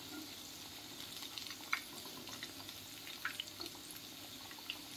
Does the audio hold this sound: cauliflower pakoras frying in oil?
yes